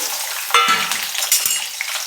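Drumstick pods being sautéed in hot oil in a rustic home kitchen, a loud close sizzle broken by scraping stirs and a few knocks of a spoon against the pan.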